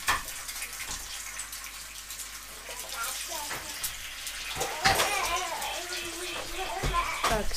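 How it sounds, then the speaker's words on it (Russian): Tap water runs steadily over eggs being washed in a home kitchen sink, a continuous splashing gush with brief clatters, while someone talks over it. "Яйца я всегда мою."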